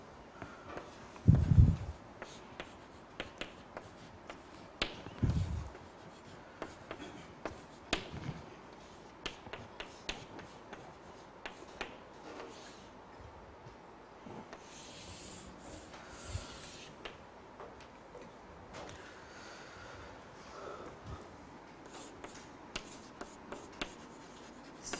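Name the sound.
writing out an equation during a physics lecture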